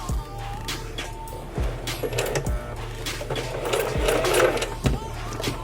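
A sewing machine stitches a wig onto a cap, tapping out a steady mechanical rhythm of close, repeated clicks and thumps, with someone speaking over it.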